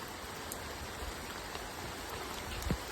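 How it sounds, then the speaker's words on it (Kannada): Steady heavy rain pours down in a rural hill-country spot near an open well, a dense even hiss with no talk and a faint rumble near the end. "ಮತ್ತೆ ಜೋರಾಯಿತು ಮಳೆ"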